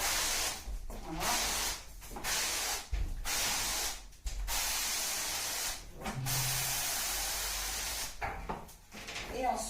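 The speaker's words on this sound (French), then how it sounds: "Je vais renvoyer la vapeur dessus." A steam cleaner blasts bursts of hissing steam onto a glass shower panel, several loud sprays broken by short pauses, with a faint voice in the gaps.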